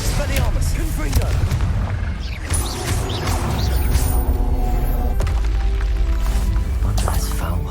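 A Confringo explosive spell in Hogwarts Legacy lands with heavy booming blasts and crashing impacts amid ongoing combat noise, while voices speak over the action.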